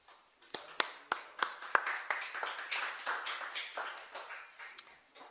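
An audience at a history lecture claps to welcome the lecturer, with sharp separate claps from a modest crowd at first that blend into fuller applause before fading out.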